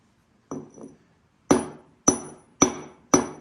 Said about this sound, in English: You don't really want to swing the hammer, you just let it fall.